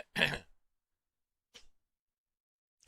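A man imitates someone clearing his throat before speaking into a microphone, one short gruff rasp followed by two faint breathy sounds in a quiet room.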